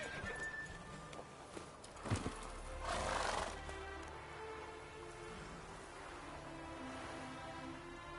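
Roach the horse whinnies in The Witcher 3, a short neigh in the middle. Hoofbeats clip-clop and a rain-like patter run underneath with faint game music, and no one speaks.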